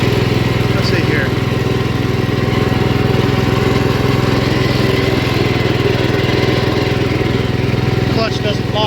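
A 1973 Gravely 814 walk-behind tractor fitted with a front drive kit runs steadily nearby, its single-cylinder engine droning loud and constant throughout, with a brief clatter near the end.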